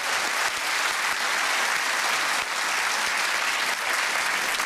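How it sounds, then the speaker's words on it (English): TV studio audience at a comedy quiz show applauding in a steady, even wash of claps that lasts the whole stretch at moderate volume. "Let's give him a round of applause."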